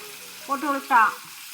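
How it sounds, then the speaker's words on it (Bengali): Pointed gourd browning in hot oil in a pan, a brief burst of frying with a couple of short tonal scrapes over a faint steady hiss, no voices. "তো আমি এইভাবে একটু লাল করে ভেজে নিচ্ছি।"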